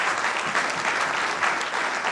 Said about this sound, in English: Once more, you can give the ED a round of applause.